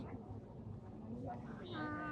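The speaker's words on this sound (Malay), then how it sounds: "Kucing." A cat meows once or twice, fairly faint, beneath steady speech in the foreground.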